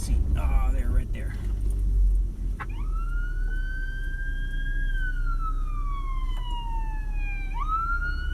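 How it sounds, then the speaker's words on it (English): AMR ambulance sirens wail through a city intersection, rising and falling in long sweeps over rumbling traffic, loud and close after a brief burst of earlier noise. "I keep hearing AMR sirens, but I don't see"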